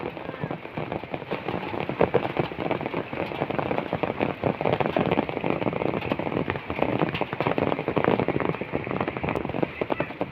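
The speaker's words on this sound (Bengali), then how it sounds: "এত বৃষ্টি সকাল ভোর থেকে, কি বলবো, সব দিকে বৃষ্টি হচ্ছে।" Heavy rain pours over a village in a dense, steady hiss of drops hitting surfaces, close and unbroken throughout.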